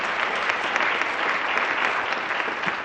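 Sustained audience applause from a school district in-service day crowd, a dense steady wash of many hands clapping without pause, fairly loud and filling the room.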